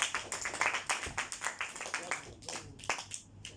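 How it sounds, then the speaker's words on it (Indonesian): A small class claps for two students, Max and Christina, after a microteaching lesson. A handful of separate, uneven claps sound close by and taper off within a few seconds. "Berikan tepukan untuk Max dan Christina"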